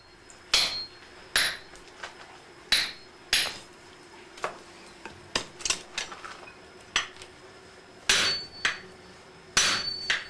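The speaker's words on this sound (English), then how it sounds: "The stage is now set for the smith to sever the steel from its tekogane handle" A swordsmith hammers steel to sever it from its tekogane handle: sharp, ringing metallic strikes, roughly a dozen at uneven intervals, close and loud against a quiet background.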